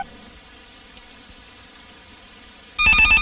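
A telephone in a Tamil film bursts into a loud electronic ring near the end, following a stretch of quiet, buzzing background.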